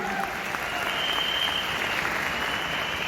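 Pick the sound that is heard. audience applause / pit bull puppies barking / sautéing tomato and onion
audience applause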